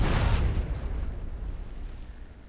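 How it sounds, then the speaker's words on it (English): A car's gas tank blows up in GTA San Andreas, a loud booming blast at the start that rolls off into a long, fading rumble with no talk over it. "Gas tank's gonna go up any second."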